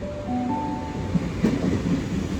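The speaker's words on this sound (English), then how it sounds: "I'm going to get on the rear car of this K-set here, this is the one that's going to take me to Leppington" Goninan K set suburban electric train in Sydney rumbling low and steady at a platform, with a faint tonal hum and a couple of soft clunks partway through.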